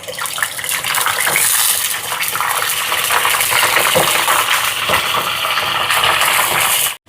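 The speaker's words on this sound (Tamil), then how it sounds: "கருவாடு பொரியட்டுக்கும்" Dried fish (karuvadu) sizzles and crackles steadily in hot oil, a dense, loud hiss that runs unbroken before cutting off abruptly.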